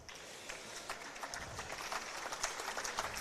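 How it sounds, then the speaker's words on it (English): Spectators clapping for Kelsey Cottrell at an Australian Open women's singles quarter-final in lawn bowls, a light, steady patter of scattered claps from a modest outdoor crowd throughout. "Kelsey Cottrell. Applauded by the crowd."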